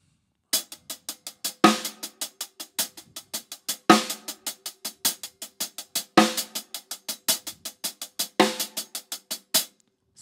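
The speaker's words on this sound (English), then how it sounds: "use this sticking and try to play a backbeat on the 2 and on the 4" Drum kit backbeat exercise with the left hand on the snare: steady fast hi-hat or stick strokes with accented snare hits on two and four, close and clear, no talking, repeating in a tight even pattern for about ten seconds.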